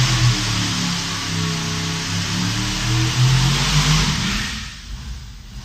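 Engine running hard on a dyno in a machine workshop where a billet engine block is being repaired, a broad steady roar with wavering pitch that eases off toward the end, heard alone without talk.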